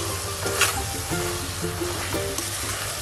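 A thickening mixture for fresh coconut barfi is stir-roasted in a kadhai, with a close, dense sizzle and a few soft, rhythmic scraping strokes of the spoon through the sticky mass. No voices.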